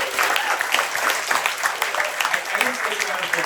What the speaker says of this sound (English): can we have a round of applause for Alex?